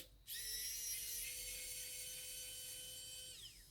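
A Xiaomi Wowstick 1F+ electric screwdriver backs out a screw with a steady, high, whirring motor whine that holds for about three seconds, then winds down as the motor stops.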